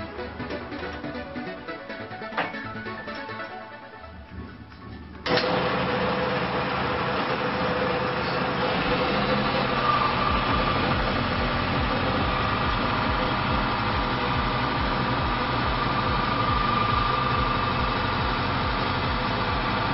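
A car engine idles on Jet 1 Extreme Oil Enhancer, a steady mechanical hum that sits quieter for the first five seconds, then jumps louder and runs evenly to the end with no talking.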